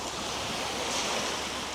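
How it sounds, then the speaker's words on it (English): Sea waves at Liuqiu Island, Taiwan, heard as a constant, dense rushing wash of surf with wind noise, steady and fairly loud with no voices. "The sea is a bit, not choppy, but it's a bit hard."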